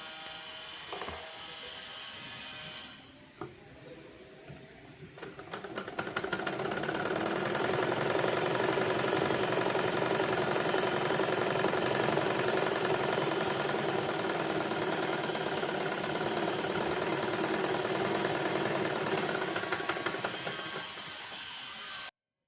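A sewing machine runs a line of straight practice stitches on cloth, starting after a few soft clicks and settling into a steady, fast mechanical whir that holds for about fifteen seconds before winding down, close and without talk.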